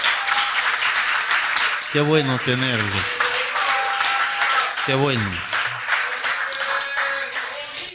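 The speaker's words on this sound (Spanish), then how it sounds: "Iglesia, dale un aplauso al Señor por ello." A church congregation applauds during a service, steady dense clapping filling the room while someone speaks briefly over it.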